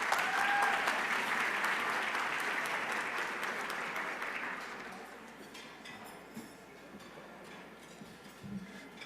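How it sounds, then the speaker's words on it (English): A conference audience gives a round of applause, dense clapping that is loud at first and gradually dies away over several seconds, leaving scattered claps and room noise. "Let's give Ms. Laura Parra and Edison International another round of applause, please."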